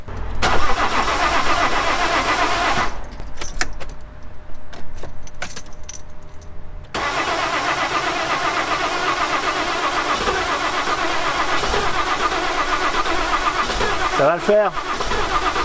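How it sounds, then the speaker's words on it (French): A Citroën C6 car's engine cranks and catches, then runs at a steady idle close by, preceded by jangling keys and clicks, while someone speaks briefly. "maintenant je la démarre"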